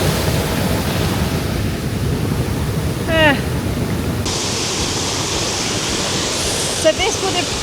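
Water rushing steadily down a Norwegian timber slide once used to push logs, a loud continuous broadband roar close by, with brief faint chirps over the top.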